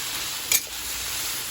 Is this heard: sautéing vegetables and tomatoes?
yes